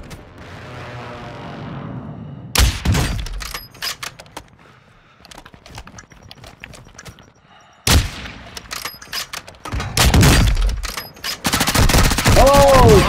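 Heavy automatic gunfire in the video game Warzone comes in long, loud, rapid bursts separated by quieter stretches of scattered single shots, with a player's voice talking over the action.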